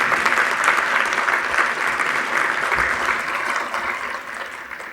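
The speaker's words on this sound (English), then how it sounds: "Yeah, you can clap." An audience applauds at a conference talk on cloud native runtime security, with dense, even clapping that fills the room and holds steady throughout, tapering only slightly at the end.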